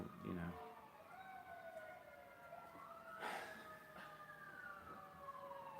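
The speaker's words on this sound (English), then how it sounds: "Cacophony of sirens at the moment." Several sirens wail at once in the distance, their pitches rising and falling and overlapping into a steady, faint chorus.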